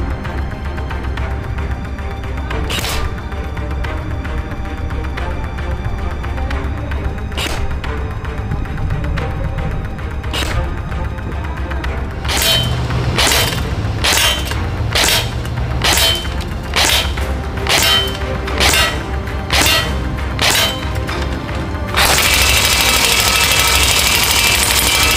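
An Ares Amoeba Honey Badger AM-013/14 airsoft gun fires at a small target, sharp single shots spaced apart, then a quicker run of regular pops, before a final loud continuous burst, over a steady low background hum.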